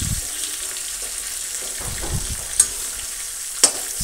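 Snake gourd kalonji gets turned slowly in a pan over a low flame, a steady soft sizzle broken by a few gentle stirring scrapes and two sharp metallic clinks.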